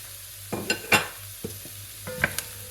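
Carrots tipped into a pan of translucent onions frying over medium heat, with a few sharp scrapes and clatters of a utensil stirring, over a soft sizzle.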